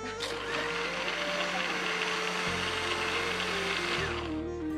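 A new electric kitchen blender whirs loudly while making lemon juice, a steady high motor whine whose pitch shifts down a couple of times as the load changes, running continuously and close by.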